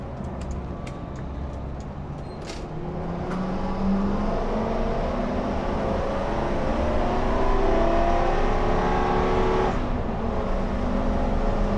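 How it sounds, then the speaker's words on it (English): A vehicle engine climbs steadily to high RPM, a loud continuous revving roar that builds and holds before the shift, with no talking. "goes to pretty high RPM before it shifts"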